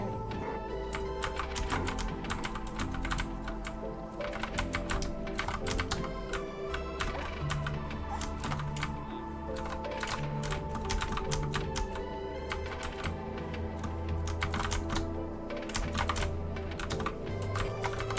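Rapid computer keyboard typing during a Minecraft game stream, a dense run of close, crisp key clicks that never lets up, laid over steady background music.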